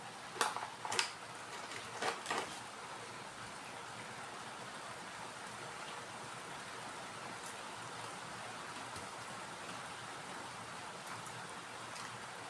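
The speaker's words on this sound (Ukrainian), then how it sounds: "Пішов дощ." Steady rain falls in an even, continuous hiss, with a few faint knocks and rustles early on and no voices.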